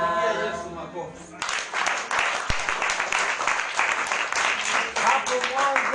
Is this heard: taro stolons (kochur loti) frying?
no